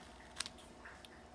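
Scissors snipping through leather for handmade earrings, one crisp sharp cut followed by a couple of lighter snips, close and quiet against faint room noise.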